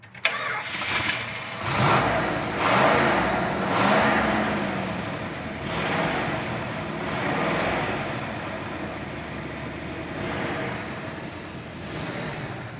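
A 1970 Plymouth HEMI 'Cuda V8 cranks and fires, then barks through several rising revs and settles into a rough, loping idle, loud and close, with no talking over it.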